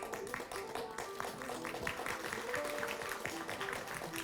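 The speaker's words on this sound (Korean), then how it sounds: "박수 부탁드립니다." An audience at a TV drama press launch applauds as an actor is welcomed to the stage, a soft, continuous patter of clapping heard from a distance.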